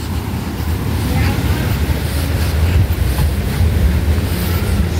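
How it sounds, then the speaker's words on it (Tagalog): Strong ocean waves surging at a beach in Tanza, Cavite, a steady heavy wash of surf with wind buffeting the microphone throughout, with faint voices in the background. "Lakas ng alon, no?"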